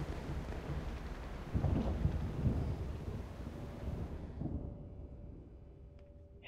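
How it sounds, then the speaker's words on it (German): Video game low rumbling thunder and dense rain noise roll together, swelling midway and then fading toward quiet, with no voices. "Jetzt regnet es hier drinnen."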